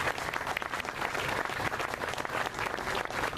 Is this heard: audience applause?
yes